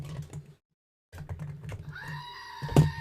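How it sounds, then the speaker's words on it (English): A goat bleats once, close and fairly loud, near the end, after indoor clatter, tapping and a short silence in a workshop. "Good old goats."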